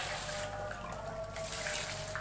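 Water pours steadily over split soybeans being prepared for tempeh, a continuous close rushing splash that runs the whole time without talk.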